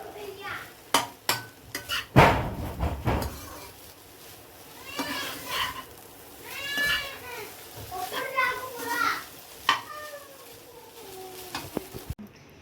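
Egg fried rice frying and being stirred in a pan, with soft sizzling and a few sharp scrapes and clanks of the spoon, under lively children's voices and talk.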